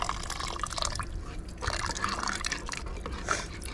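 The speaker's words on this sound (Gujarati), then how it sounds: "પાણી નાખતો થોડુંક થોડુંક પાણી નાખી દે" A steady, close gush of water pouring into a pot of Rajasthani panch ratna dal, bubbling and splashing for a few seconds without voices.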